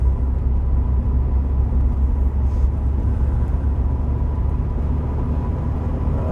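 A Rover 25 Commerce barn-find van drives along with a dragging brake. A loud, steady low engine and road rumble fills the interior throughout, with no distinct brake noise standing out.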